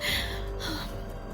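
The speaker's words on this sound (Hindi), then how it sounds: "नव्या घबराहट से हांफने लगी।" A woman pants in fright in an audio drama, a short burst of quick, breathy gasps heard close and fairly quiet, with no speech.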